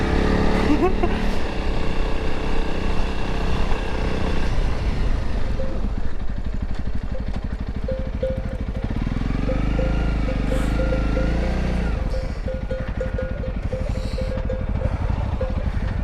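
Motorcycle engine pulling in second gear on a rough, dangerous European mountain trail, a steady close engine drone with clattering and shifting revs, a rider's voice speaking over it at times.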